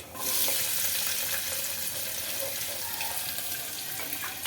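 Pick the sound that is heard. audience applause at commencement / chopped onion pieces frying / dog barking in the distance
chopped onion pieces frying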